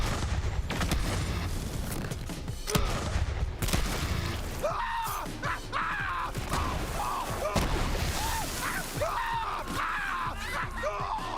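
Shotgun gunfire in the video game Borderlands 3, rapid sharp blasts and booms in quick succession mixed with game effects and enemy cries, loud and dense throughout with occasional gasps and screams.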